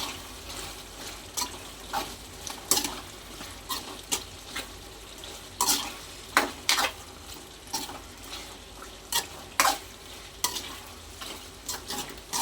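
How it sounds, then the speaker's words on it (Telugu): Spicy chicken fry is stirred with two teaspoons of chilli powder in a pan, the spoon scraping the metal again and again in uneven strokes over a light background sizzle. "ఇప్పుడు మనం దీన్ని మిక్స్ చేద్దాం"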